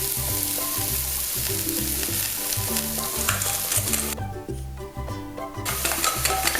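Garlic, ginger and scallion sautéing in a pan, a loud close sizzle with a regular rhythmic scraping and stirring pattern, briefly dropping off before the frying resumes.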